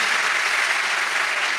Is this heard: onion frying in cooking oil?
no